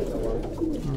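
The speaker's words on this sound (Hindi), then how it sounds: "हमारे पास जो है ये कबूतर है।" Pigeons kept by a Quetta pigeon fancier coo in a low, continuous murmur, with several birds overlapping close by and no clear breaks over a second.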